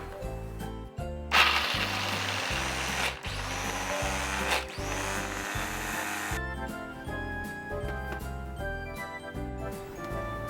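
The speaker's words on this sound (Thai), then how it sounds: "อันดับแรกเราก็จะมา ปั่นกระเทียมกันเลยนะคะ" An electric blender whirs loudly for about five seconds, chopping garlic in short bursts, then cuts off while upbeat background music keeps playing.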